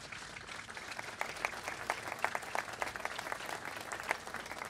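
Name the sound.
audience applause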